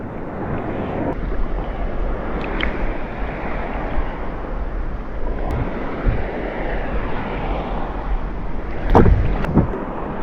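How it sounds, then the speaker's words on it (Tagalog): Wind and sea noise roar steadily around an open fishing boat in big waves, with broadband rushing throughout and a few sharper splashes or knocks near the end, no talk. "Uy, alon malaki."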